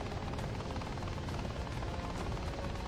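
An Apache attack helicopter in the game Ravenfield drones steadily with a fast, even rotor chop, faint and continuous with no talk over it.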